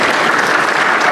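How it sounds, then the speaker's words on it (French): Applause from a church congregation fills the space, a dense, steady wash of many hands clapping at full volume throughout the brief moment. "Applaudissons encore pour"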